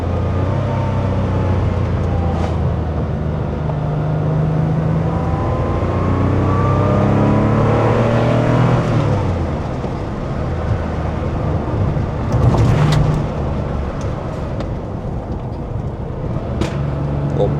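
A 1985 Porsche 911 Carrera engine pulls hard in second gear, a loud, rising rev heard from inside the car with the windows partly down, with a gear change around the middle and a steady climb again afterward.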